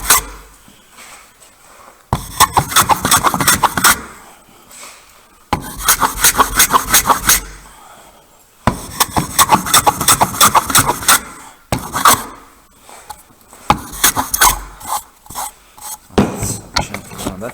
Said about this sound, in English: I get my jack plane